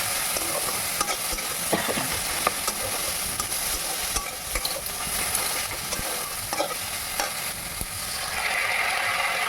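Ground cumin paste, chili powder and turmeric fry in a pan for egg tadka, stirred with repeated clicking scrapes over a continuous loud sizzle, close and steady with no talking.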